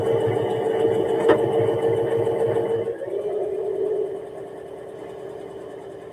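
Sewing machine running a straight stitch along the inside leg seam of black trousers, a steady close motor whir with rapid needle ticking that slows and fades toward the end.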